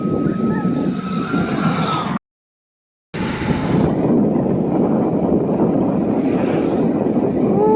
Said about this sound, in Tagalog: Mas malakas yung hangin